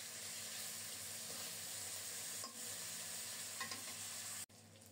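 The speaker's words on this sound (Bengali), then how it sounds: "মাছগুলো খুব সুন্দর মতো ভাজা হয়ে গেছে, এক পিঠ উল্টিয়ে দিচ্ছি" Pabda fish fry in a pan of hot oil with a steady, close sizzle and crackle, broken by a couple of brief scraping knocks as the pieces are turned, then the sound drops off abruptly.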